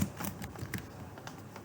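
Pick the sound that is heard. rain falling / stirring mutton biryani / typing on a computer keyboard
typing on a computer keyboard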